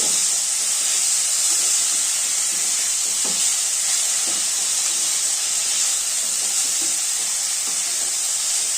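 Broad beans fry in hot oil with a steady, close sizzle and hiss throughout, broken by occasional soft stirring scrapes, with no one talking.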